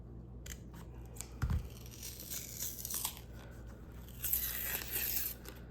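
Quiet crinkly tearing and snipping sounds come in short bursts, close up, with a soft thump near the start, as a liner is torn and cut from a DIY soap loaf mold.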